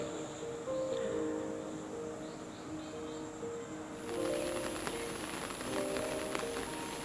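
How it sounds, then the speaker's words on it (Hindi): Steady rain falls outside a hut in Arunachal Pradesh, a soft, continuous hiss that stays quiet and even throughout, with faint insect or bird tones drifting in the background. "बारिश हो रही थी।"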